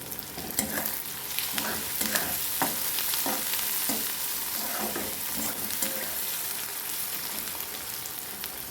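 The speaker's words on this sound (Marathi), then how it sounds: "कांदा आणि टमाटा छान आपला परतलेला आहे तर त्याच्यात मी थोडी कोथिंबीर टाकून घेते" Onion and tomato sizzle steadily in a pan as coriander is added, a continuous close frying hiss with light stirring scrapes throughout.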